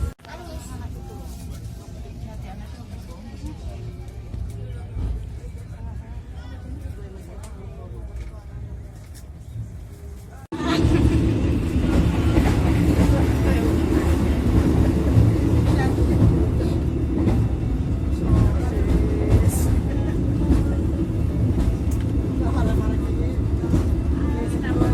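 An Indonesian passenger train rumbles steadily from inside the carriage, the low roar jumping louder about halfway through and staying constant, with an onboard announcement voice heard over the noise.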